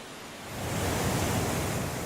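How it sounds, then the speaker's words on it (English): A Nile waterfall squeezed through a five-metre-wide chasm in Uganda roars as a dense, steady rush that swells in over the first half-second, then holds loud and continuous with no voices. "the world's longest river is squeezed into a chasm just 5 meters wide before crashing into the broad floodplain below"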